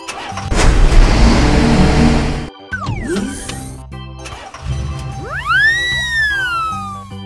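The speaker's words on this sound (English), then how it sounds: "Garbage truck." A heavy truck engine rumbles loudly, then revs and whines with rising and falling tones, like a garbage truck pulling away nearby.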